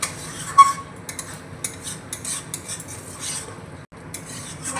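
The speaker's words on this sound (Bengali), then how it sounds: "মিশিয়ে নেব সমস্ত কিছু।" A spoon scrapes and clinks against a pan while marinated soybean chunks are mixed with spices over a low gas flame, with a soft, irregular stirring rhythm and a faint sizzle underneath.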